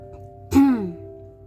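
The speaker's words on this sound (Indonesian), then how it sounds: "Dia batuk 2 kali menyesuaikan suaranya" A person clears their throat with one sharp, rough cough-like burst followed by a fading voiced rasp, close and fairly loud against a quiet steady hum.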